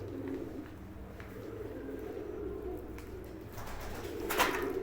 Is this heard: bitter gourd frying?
no